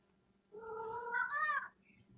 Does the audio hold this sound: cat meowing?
yes